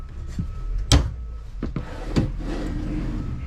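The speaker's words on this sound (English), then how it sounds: "You got a drawer for your delicates and unmentionables" Drawer in the bedroom of a 2025 Alpha Wolf 33BH-L travel trailer sliding open or shut, a sharp wooden knock followed by a couple of softer bumps and rubs, close by with no talk.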